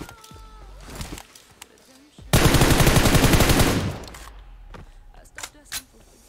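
Gunfire in PUBG Mobile on the Miramar map: one loud, sustained burst of rapid shots mid-clip, with quieter clicks and game sounds before and after.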